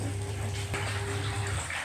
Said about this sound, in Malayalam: ഇനി ഇതിലോട്ട് മീനിടാം